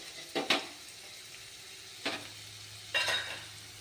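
Onions and cashews frying in a pan for coriander rice, with three sharp, close bursts of sizzle and spatula stirring separated by quieter stretches of steady low frying.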